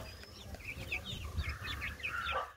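Ten newly arrived baby chicks in a coop, with a quick run of thin high peeps and chirps, fairly faint and close, over low background rumble.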